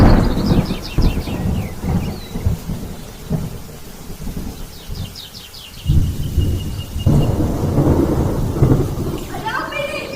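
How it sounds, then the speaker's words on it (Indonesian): A heavy downpour with rolling thunder during a storm, loud and continuous rain hiss with deep rumbling swells, and a sharper crack of thunder near the end. "turun hujan yang sangat deras disertai petir"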